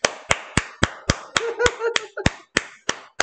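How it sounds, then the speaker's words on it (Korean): Sharp single hand claps ring out in a steady, evenly spaced rhythm, about a dozen close strikes, with a voice speaking briefly beneath them midway through. "박수"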